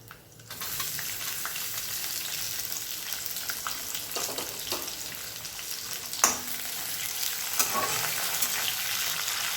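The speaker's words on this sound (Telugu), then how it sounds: "ఇవి కూడా చక్కగా దోరగా వేగేంత వరకు కూడా మనము మీడియంలో పెట్టుకొని స్టవ్ మనము ఫ్రై చేద్దామండి." Sliced onions and curry leaves fry in hot oil on medium heat for a beetroot tempering: a steady, close sizzle with a few light stirring clinks and no talk.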